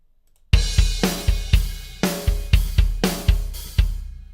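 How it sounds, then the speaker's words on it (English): An EZdrummer drum pattern opens on a crash cymbal, then settles into a steady groove of punchy kick and snare hits with washy cymbal, loud and close with no voices. "So our opening hit right now is on this crash cymbal"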